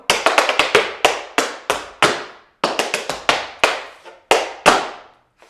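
Tap shoes strike a hard floor in a quick intermediate routine of stamps, paddle-style flurries, scuffs and heel-toe beats, loud and close with crisp sharp attacks in bursts and short pauses, no voices.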